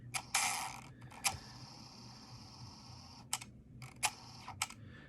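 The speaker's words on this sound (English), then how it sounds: "hear that clicking?" A Logitech MX mouse scroll wheel ratchets in quick bursts of sharp clicks, spaced irregularly across a quiet room with a low steady hum underneath.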